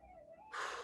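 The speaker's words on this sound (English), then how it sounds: "Big inhale." A big inhale during a shoulder exercise session: one short, airy breath in that starts suddenly after a quiet moment, soft and close, with no talking.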